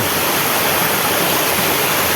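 A natural waterfall at Wat Tham Khao Wong temple among the hills of Uthai Thani pours in a loud, steady, unbroken rush of water close by.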